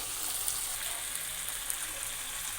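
Taro pieces sizzling as they are sautéed in spiced oil with prawns, a bright continuous crackling fry heard close up, with small pops and no voices.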